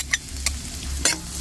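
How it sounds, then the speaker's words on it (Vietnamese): Shallots and chili sizzle in hot pork fat in a pan, with a steady close frying hiss and three sharp scraping stirs of a utensil spaced through it. "để mình phi miếng hành tráng thơm cả nhà"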